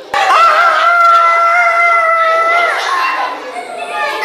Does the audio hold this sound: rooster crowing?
yes